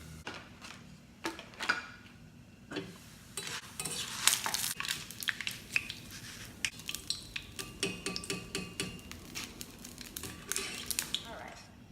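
Rice hits hot oil during a sizzling-rice-with-seafood dish, giving scattered sharp crackles and spitting pops of moderate, uneven strength close by.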